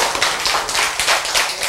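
A lecture-hall audience applauds in a short burst of brisk, rhythmic clapping, close and fairly loud, with no speech over it.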